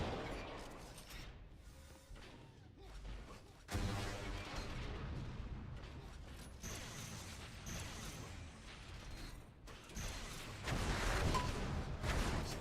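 Rocket launcher blasts and booming impacts punch through fast-paced arena combat in an Unreal Tournament 4 duel, with whooshes and explosions rising in bursts over steady game noise.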